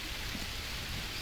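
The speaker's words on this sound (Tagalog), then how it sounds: "Wala, umuulan eh." Steady rain falls in the Green Hell survival video game, a dense even hiss of drops with no pauses and no voices.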